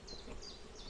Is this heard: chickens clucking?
no